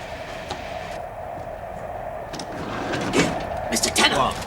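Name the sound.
on a moving train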